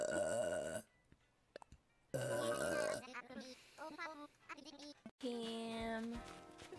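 Several loud, drawn-out burps with a pitched, almost bleating tone, separated by short pauses, with voices talking between them.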